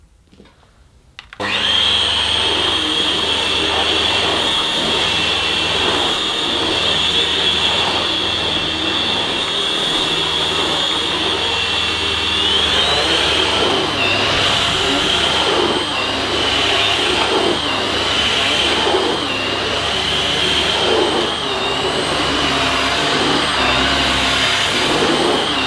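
A Numatic Henry Quick Corded vacuum cleaner switches on after a brief quiet moment and runs steadily with a loud, constant high-pitched motor whine and airflow rush, close by and alone.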